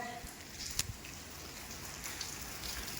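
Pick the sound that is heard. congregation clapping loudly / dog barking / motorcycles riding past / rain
rain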